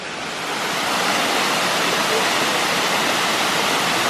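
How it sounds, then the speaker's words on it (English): Cheaha High Falls in Alabama roars as a constant, dense, loud wash of falling water that swells in over the first second and then holds steady. "sitting here by the waterfall"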